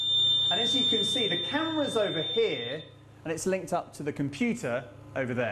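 A steady high-pitched electronic alarm tone from a thermal temperature-screening camera at Bournemouth Airport sounds continuously while someone talks over it; the beeping tone fades out partway through as speech continues.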